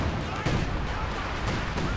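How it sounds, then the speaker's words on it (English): Artillery strike in the strategy game Company of Heroes 2, dense rumbling blasts and booms rolling over one another in continuous heavy bombardment, loud and close. "Another artillery strike going in there straight on the ND-42."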